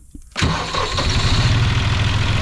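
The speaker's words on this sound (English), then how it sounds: "at the end of the day, it'll still start up with a good battery" An old John Deere tractor's diesel engine cranks briefly, catches with a loud burst and settles into a steady, rhythmic, chugging idle that stays close and prominent.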